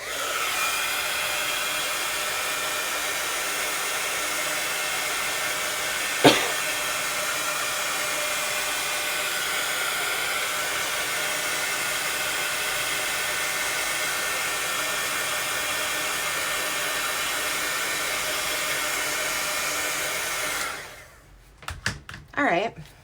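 A hair dryer blows continuously at close range while drying an art piece, a steady whooshing drone with one brief knock partway through, stopping near the end followed by a few small handling clatters.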